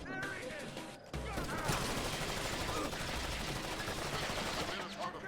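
Rapid gunfire in Splinter Cell: Chaos Theory on the Hokkaido level, a sustained burst of shots and impacts that kicks in after a brief quieter moment, with a voice talking underneath.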